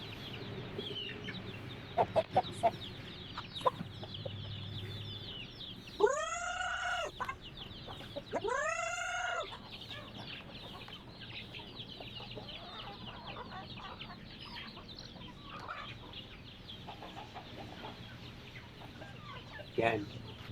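Native chickens cluck and call around a farmyard, with a couple of louder drawn-out crows standing out briefly amid scattered background noise.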